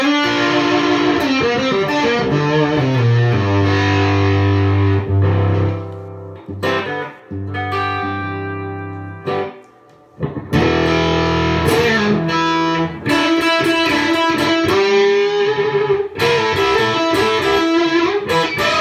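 Electric guitar played through a Lovepedal White Dragon Fuzz pedal, loud and saturated, with chords and riffs ringing out, brief pauses between phrases, and no talking over it.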